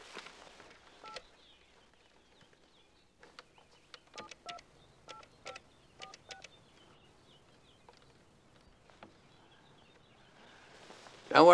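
A telephone is dialed indoors as a local call: short electronic keypad tones sound in irregular clusters, separated by quiet pauses, and a louder sound closes the sequence.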